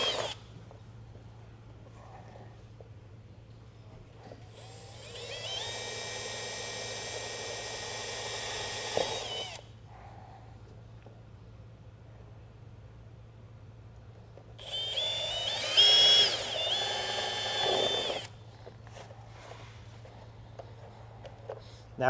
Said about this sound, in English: Let's go ahead and drill into your four corners.